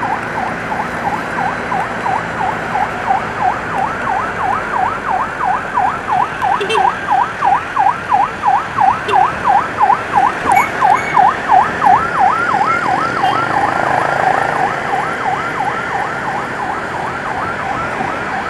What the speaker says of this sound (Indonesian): Kali ini di depan ada satu unit ambulans dari City Kodija